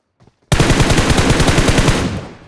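Automatic gunfire rattles in BGMI as enemies are knocked down, one loud, close sustained burst of rapid shots lasting about a second and a half, fading out at the end.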